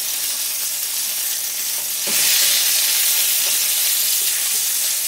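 Bottle gourd fries in a pan with a constant close sizzle that swells louder midway, with a few stirring scrapes and no talk.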